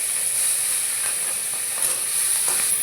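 Prawns fry in hot mustard oil tempered with black cumin seeds in a kadai, giving a steady, close, airy sizzle with soft crackles that holds throughout, no voices.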